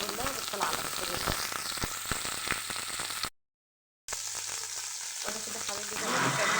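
Meat sautéing in a pan for a rice, peas and soup meal, with a steady close sizzle and frying crackle; the sound cuts out briefly partway through, then returns just as busy and slightly louder toward the end.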